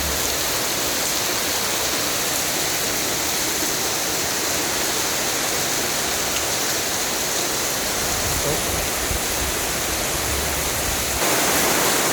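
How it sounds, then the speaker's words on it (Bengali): Heavy rain pouring in Rajibpur, Kurigram, with runoff water streaming and spilling nearby, a loud, dense, unbroken roar that stays steady throughout, with no voices. "দেখেন এখানে কী পরিমাণ শব্দ, বৃষ্টির ঝমঝম শব্দ।"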